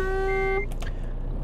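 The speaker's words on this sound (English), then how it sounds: "I'll beep you again." Truck horn in the Euro Truck Simulator 2 video game, one sustained loud blast that cuts off abruptly, followed by a brief faint sound over steady engine rumble.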